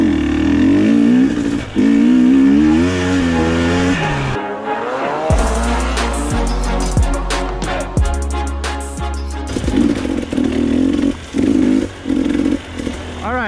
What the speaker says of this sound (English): We're out here dirt biking, having some fun.